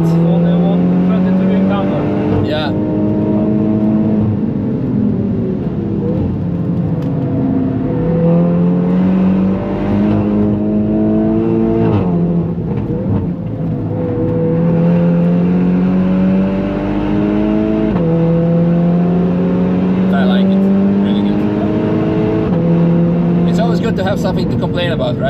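A modified VW Golf 8 R engine roars through a hot lap of the Nürburgring, its pitch climbing and dropping repeatedly with each gear change. A voice talks over the loud, close engine throughout.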